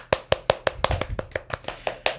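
Hand claps, roughly a dozen sharp, evenly spaced claps, close and fairly loud, a brief round of applause for a podcast sponsor with no talk over it.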